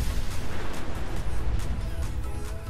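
A revolver fitted with a MIRV launcher attachment fires in the Fallout 4 video game, setting off a rapid cluster of low, rumbling explosions that pulse unevenly throughout.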